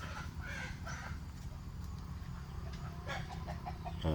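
Faint chicken clucking over a low background rumble, with a few short calls scattered through.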